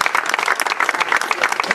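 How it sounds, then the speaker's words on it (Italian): An audience at a square-naming ceremony applauds loudly and densely, many hands clapping close and continuous for under two seconds. "Un applauso."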